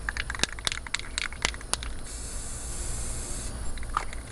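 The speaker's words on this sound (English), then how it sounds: "when you're working with spray paint, before you decide you're going to finish up and put the cap on, turn it upside down and give it a spray" Short hissing bursts from an aerosol spray paint can coating a plastic garden pot, several quick sprays in a row followed by a longer steady hiss, close and moderately loud with no talking.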